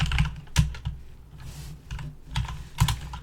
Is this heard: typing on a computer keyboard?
yes